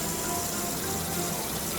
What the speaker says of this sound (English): Turning on the water.